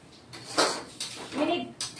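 Soya chunks with a splash of water, no onion or garlic, are stirred and sautéed in a pan: a few distinct spatula scrapes and metallic clinks against the pan, close by, with a voice briefly speaking between them.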